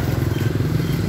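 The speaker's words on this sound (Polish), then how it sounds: "Jezu, te motorki." Motorcycles pass by with a loud, steady, rapidly pulsing engine drone, close and continuous through the short stretch, with no talking.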